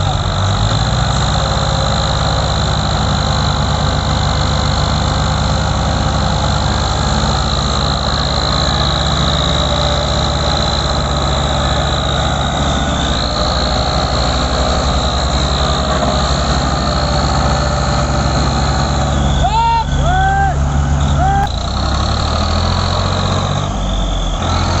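New Holland tractor engine, a Ghazi 65 or Ford 3610, hauling a loaded sugarcane trolley in rain, running as a loud, steady, close drone with a brief pitch shift near the end.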